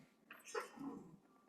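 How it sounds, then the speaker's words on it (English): A small puppy makes one brief, faint whimpering yip against a quiet indoor background. "I have a little puppy here."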